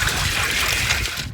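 Water sloshes and trickles while the radiator overflow bottle from a 1978 Yanmar YM1700 tractor is rinsed out, a close, continuous hissing splash for just over a second before tapering off.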